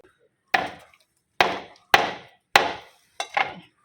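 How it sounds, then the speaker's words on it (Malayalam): The tips of a handmade coconut-leaf-rib broom are chopped off, heard as five sharp, close chopping thwacks spaced a little under a second apart, each ending in a short decay, with no talk. "ഇനി ഈ ചൂലിലെ തുമ്പൊന്ന് വെട്ടിക്കൊടുക്കണം"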